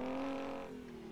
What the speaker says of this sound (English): Man, oh man, this truck sounds crazy.